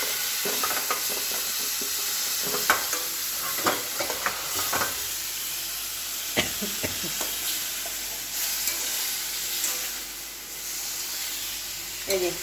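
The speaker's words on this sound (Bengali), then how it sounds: "এই যে কুঁদরি ভাজা" Ivy gourd (kundri) frying in a pan, a constant sizzle broken by frequent sharp clinks and scrapes of a spatula stirring, close up, with faint background voices.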